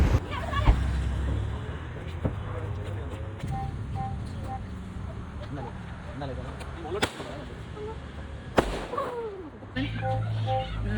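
Sharp Diwali firecracker bangs burst at irregular intervals, some near and some farther off, over a busy background of people talking and ambient noise.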